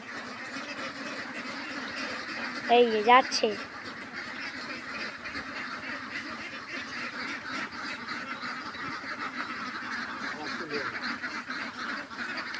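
Ducks on a 360-bird farm give a short burst of loud, nasal quacking, then fainter scattered calls over a steady outdoor background, with someone speaking briefly.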